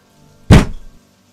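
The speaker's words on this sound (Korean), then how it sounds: "테이블을 손바닥으로 쾅 치며 묻자" A palm slams down onto a table in one sharp, heavy thunk, close and loud, with a short dull decay and quiet before and after.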